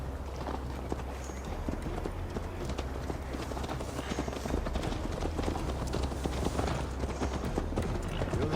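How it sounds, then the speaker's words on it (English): Horse hooves clip-clopping at a brisk ride in Assassin's Creed Valhalla, a steady rhythmic clatter under a dense game soundscape with low rumble throughout. "Mount up, Eivor. It's a long ride to Tamworth."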